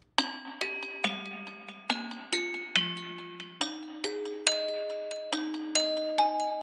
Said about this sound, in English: I put that over the bell melody.